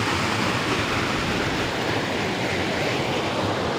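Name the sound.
water rushing out through a loose lake sluice gate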